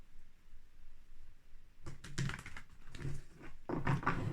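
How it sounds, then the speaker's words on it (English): Tarot cards drawn and shuffled from a deck during a reading, a brief burst of close, soft papery slaps and flicks after quiet, in irregular clusters. "I'm just going to pull a couple more cards for that."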